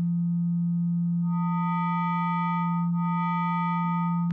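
A steady low phase-modulated tone from a WMD Phase Displacement Oscillator hums continuously, with brighter overtones appearing partway through and a slight pitch wobble near the end.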